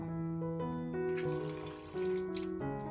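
Water pours steadily into a cooking pot seasoned with kasuri methi, a continuous stream whose pitch shifts upward as the pot fills, near and fairly loud.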